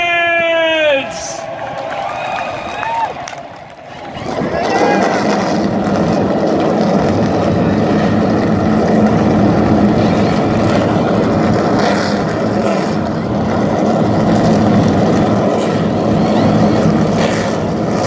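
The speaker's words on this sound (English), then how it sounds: "Start your engines!" NASCAR Cup Series stock car engines at Daytona fire up and settle into a loud, dense, continuous roar, with a few seconds of crowd or announcer noise before the engines burst in and hold steady.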